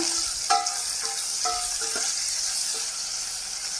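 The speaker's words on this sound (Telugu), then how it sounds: "ఇప్పుడు పచ్చిమిర్చి వేసుకున్నాం. ఇలా వేగేటప్పుడు అవి కూడా బాగా వేగుతాయి అన్నమాట." Green chillies fry in hot oil in a pan, making a steady close sizzle and crackle that runs throughout with a few light stirring knocks and no speech.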